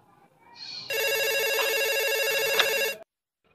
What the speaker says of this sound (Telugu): రింగ్ అవుతుంది అయ్యా